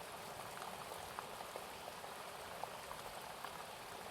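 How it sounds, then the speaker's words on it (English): Heavy rain falls in a continuous dense hiss, scattered sharper drops ticking through a steady wash of water, even and unbroken throughout. "And as the rain sounds heavier and heavier"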